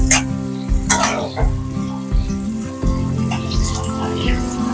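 Chopped vegetables for chili chicken lightly frying in a pan, giving a close sizzle with stirring scrapes, under someone talking throughout.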